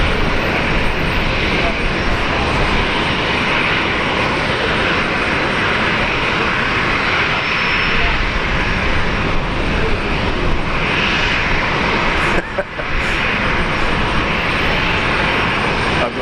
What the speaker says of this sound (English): Besides having the old school jet engines, the Rolls-Royce Tays are really nice.